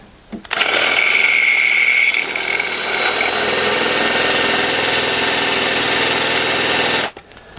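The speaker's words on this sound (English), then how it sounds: "So let's see if I can drill this" A power drill bores steadily into a metal pin held in a vise on a workshop morticer, a loud continuous whirring motor drone that starts abruptly, runs for about six seconds and cuts off.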